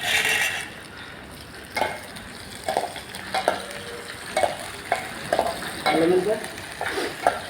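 A ladle scrapes and stirs through frying food in a pan, making repeated clanks and scrapes over a faint sizzle, close and intermittent, with a little background talk.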